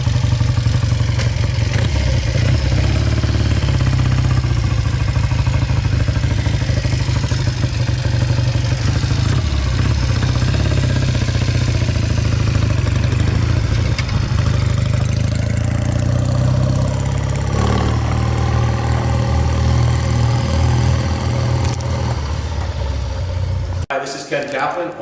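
A 1967 Triumph T100R Tiger Daytona Super Sports motorcycle, original and unrestored, idles steadily and close up with a loud, continuous low throb, cutting out abruptly at the very end.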